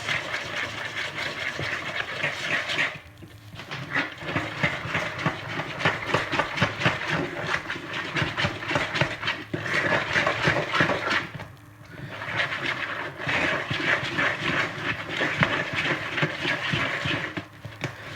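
An electric mixer whirs steadily through cake batter for a thorough mix, a loud continuous motor drone with two brief pauses where the sound drops before resuming.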